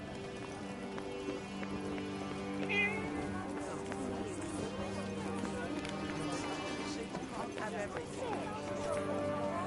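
A cat meows once in the video game Forspoken, a short mid-pitched cry amid ambient game sound, footsteps and music, with a voice talking at times.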